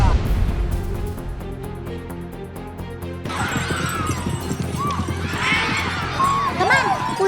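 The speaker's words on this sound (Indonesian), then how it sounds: "Si kuda harus menyatu dengan si penunggangnya apabila sedang bermain pasola." Sumba horses at a pasola contest: after a stretch of steady music, loud hooves drum and thud close by while horses whinny over crowd noise, with voices in the mix.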